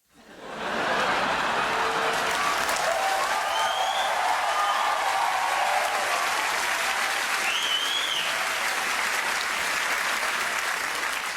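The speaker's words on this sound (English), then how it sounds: "everyone is actually cheering and kind of cracking up" A large audience at the BAFTA Awards breaks into loud, sustained cheering and applause that swells quickly and holds steady as a dense wall of clapping and crowd noise.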